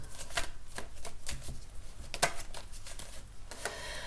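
Tarot cards being shuffled and drawn: a close, steady riffle of stiff cards with quick rhythmic flicks and one sharper slap near the middle, with no talking.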